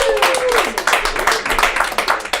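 Audience clapping at a live comedy show, a dense run of rapid claps close by that keeps going throughout, with a voice briefly heard near the start.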